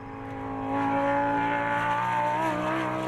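A Lamborghini GT race car screams along on the final lap of a sprint race at Phakisa, its engine note held high and loud, then shifting and rising as it drives hard past.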